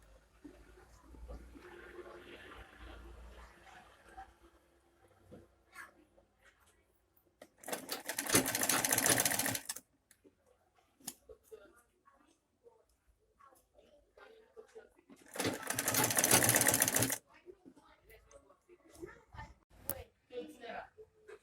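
A sewing machine stitches a sleeve seam with a 0.5 inch allowance. It runs in two loud, rapid bursts of about two seconds each, and quieter handling noises and talk fill the gaps.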